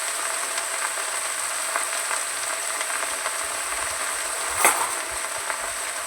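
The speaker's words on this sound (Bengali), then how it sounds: "কাঁচা লঙ্কাগুলো দিচ্ছি আমি কাঁচা লঙ্কাটা দিয়ে আমি যতক্ষণ না শাকটা মরে যাচ্ছে" Green chillies frying with fenugreek leaves in a pan, a steady soft sizzle with a faint crackle, and one louder spoon scrape or clatter partway through.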